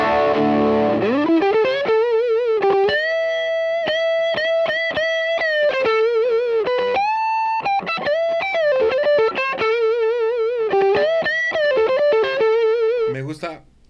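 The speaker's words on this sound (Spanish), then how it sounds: "Quizá no tan agresivo la distorsión." Electric guitar through an overdrive pedal cranked to maximum distortion, playing a loud, continuous melodic lead line of sustained bent notes and quick phrases, with no pauses and no voice.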